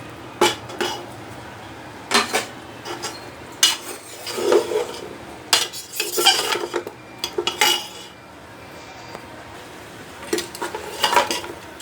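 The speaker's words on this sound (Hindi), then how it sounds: "ये मैं साथ ही पाए डाल देती हूँ ताकि ये भी अच्छी तरह भून जाएंगे मसाले के साथ साथ" A spoon clanks and scrapes against a pot while trotters (paaye) fry in masala, sharp metallic knocks arriving in irregular bursts over a faint low background.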